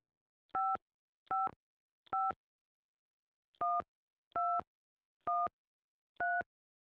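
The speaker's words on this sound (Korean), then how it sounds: "제가 전화해 볼게요" Keypad tones from a telephone number being dialed: seven short, evenly spaced beeps, three then a pause then four, heard alone with no voices.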